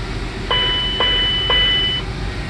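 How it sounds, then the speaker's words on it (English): A SkyWest airliner cockpit's cargo smoke master warning sounds a triple chime, three evenly spaced ringing tones over steady flight-deck background noise. "That triple chime."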